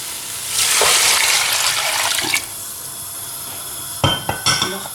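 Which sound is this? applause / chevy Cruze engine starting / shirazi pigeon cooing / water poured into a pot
water poured into a pot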